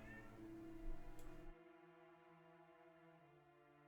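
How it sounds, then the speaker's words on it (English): A domestic cat meows insistently nearby, with a drawn-out tonal cry that rises and then falls away, heard alone in a quiet room. "cat is being even more insistent"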